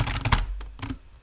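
Rapid key presses on a computer keyboard as a password is typed, a burst of close clicks followed by a couple more taps, no talk.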